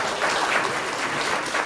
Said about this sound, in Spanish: Denles un fuerte aplauso.